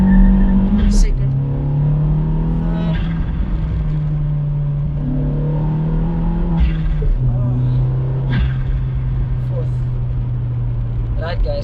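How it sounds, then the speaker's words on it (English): An Opel Astra GSI with a K04 turbo and a Z20LER engine pulls hard up through the gears, its steady engine drone dropping in pitch at each shift, heard from inside the car with a voice over it. "I'm sure you're hearing the turbo as well."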